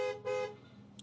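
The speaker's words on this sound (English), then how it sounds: "What is with the honking noise? Where's the honking noise coming from?" Car horns honk in nearby city traffic, two strong blasts in quick succession followed by a fainter, shorter toot, heard alone without talk.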